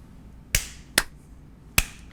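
Three sharp, close hand claps ring out in a quiet room at uneven intervals, each a crisp isolated crack with a short decay, made to sync podcast recording audio.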